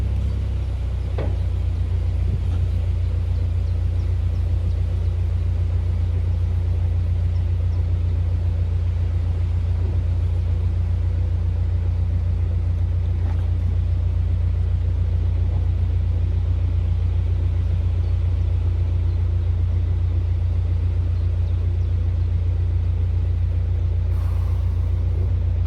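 A narrowboat engine rumbles steadily while cruising, a loud, constant low drone with no talk over it.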